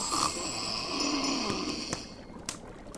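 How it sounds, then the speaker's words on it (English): A giant snoring in a Jack and the Beanstalk story, a long, rumbling breath drawn in and out with a nasal rasp, fairly close and alone without talk. "his huge head lolled and he started to snore."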